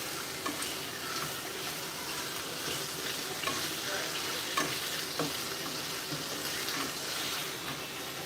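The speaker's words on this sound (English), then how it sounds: "we're cooking this sausage up" Noodles boil and sausage fries in a pan, sizzling and bubbling steadily, with occasional light clinks and stirring sounds, a continuous hiss throughout.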